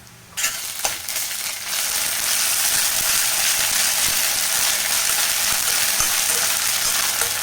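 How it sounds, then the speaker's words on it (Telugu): Ginger garlic paste fries with onions and green chilies in a pan for egg dum biryani. A steady, bright sizzle starts abruptly and runs continuously, with a few faint stirring clicks near the start. "ఇప్పుడు ఒక స్పూన్ వరకు అల్లవెల్లుల్లి పేస్ట్ వేసుకొని పచ్చివాసన పోయేంత వరకు అయితే ఫ్రై చేసేద్దాం"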